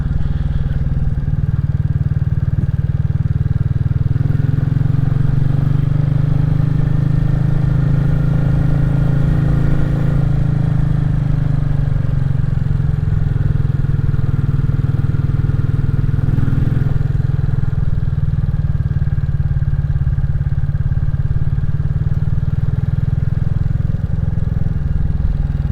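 A Royal Enfield Classic 350 rides along gravelly country lanes, its single-cylinder engine thumping loud, close and steady throughout with deep low rumble and wind.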